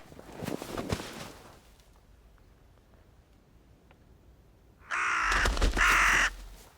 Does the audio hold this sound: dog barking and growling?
no